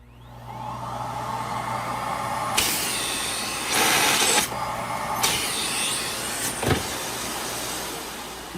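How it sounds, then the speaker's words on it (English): Eureka Airspeed vacuum cleaner motor runs with a clog, a steady whine whose pitch shifts abruptly, with several loud surging bursts and a sharp clunk near the end. "You can tell by how the motor changes pitch."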